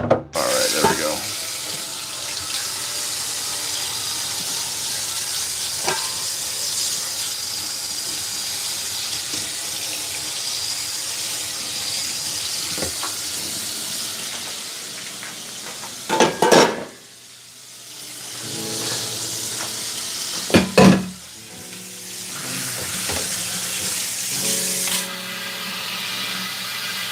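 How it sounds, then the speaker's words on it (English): Water streams steadily from a kitchen faucet's spray head into a sink, close and continuous, with a few brief clatters and pauses as the flow stops and restarts. "the spray head on this faucet really makes this task a lot easier"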